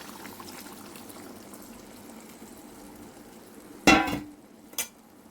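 Mixer-rinse water splashes sharply into a pot of green chilli chicken in one short burst, followed by a smaller splash, against a quiet hiss of cooking.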